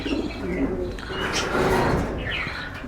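Pet white doves coo softly and repeatedly nearby, under a person talking steadily.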